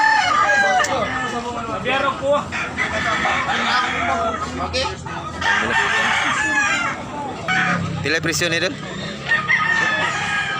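Chickens and roosters at a poultry market in Tabunok, Talisay, Cebu crow and cluck repeatedly and loudly, overlapping one another, while people talk nearby amid market chatter.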